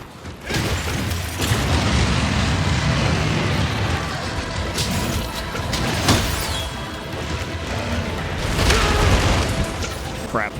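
Booming explosions and combat effects from the video game Monster Hunter Rise during a hunt against the fire dragon Teostra, a sustained loud roar of blasts with sharp bursts, mixed with game sounds and a player talking over it.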